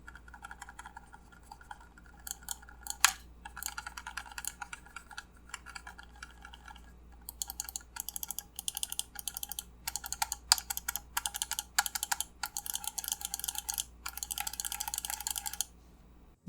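Rattly clicking of a GameSir G7 Pro controller D-pad with the faceplate and cap removed, sharp close clicks in irregular bursts and rapid flurries over a quiet low hum.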